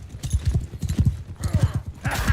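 Horse hooves clip-clop in a steady galloping rhythm during a battle in Mount and Blade Bannerlord, up close and loud, with a brief whinny-like sound and clatter toward the end.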